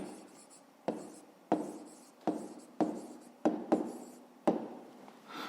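Pen strokes scratching down a written answer to a fifth-grade math exercise, a series of about eight sharp, close taps and scrapes at a steady rhythm, each ending in a short rustle, with no talk.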